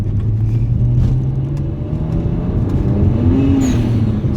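BMW 135i with the N54 engine accelerating hard through the gears, a loud close rumbling roar whose pitch climbs, drops at a shift, then climbs again.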